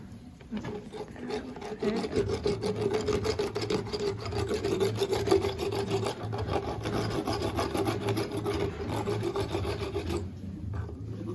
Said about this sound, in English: This is just for a lower molar rasp, I call it.